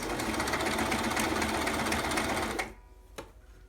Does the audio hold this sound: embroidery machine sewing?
yes